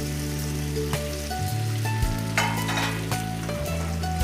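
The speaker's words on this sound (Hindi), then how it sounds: "तो ये तेल गरम हो जाए मेरा, फिर मैं इसमें ये गट्टे डालूंगी।" Gatte, gram-flour dumplings, frying in hot oil in a home kitchen, a steady loud sizzle with bubbling crackle and a few soft knocks of the pan, no voices.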